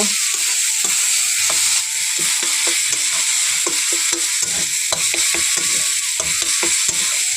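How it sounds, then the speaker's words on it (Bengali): Fried spices and roasted peanuts are stirred into a cooking vegetable mixture for vegetable chops, giving a continuous sizzle broken by frequent sharp scrapes and taps of a spatula against the pan, close and fairly loud, without speech. "এখন আমি দেখো ভেজে রাখা ওই মশলাটা এর মধ্যে অ্যাড করে দিচ্ছি আর এখন দিয়ে দিচ্ছি ভেজে রাখা বাদামগুলো এখন সবগুলোই এইভাবে মিশিয়ে নেব"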